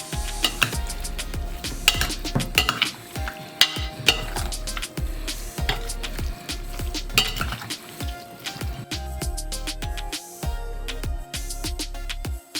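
A utensil stirs and clinks steadily against a bowl, making quick repeated taps and scrapes close by with no talking, mixing a soy sauce and salt marinade for shark.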